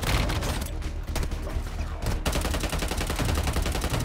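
Dense rapid automatic gunfire in the mobile shooter Warzone Mobile, sustained bursts nearly continuous with a brief pause, loud and close, a faint voice underneath.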